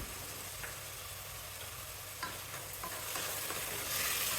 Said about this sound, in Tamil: அதையும் இப்போ வெங்காயத்தோடு சேர்த்து கொஞ்சம் வதக்கணும்.